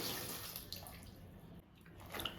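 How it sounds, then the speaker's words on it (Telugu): Tender fresh brinjals are swished and rinsed in salted water, giving a soft, faint, continuous splashing and trickling close by, with no voices. "సాల్ట్ వాటర్లో కడిగేసుకోవాలి"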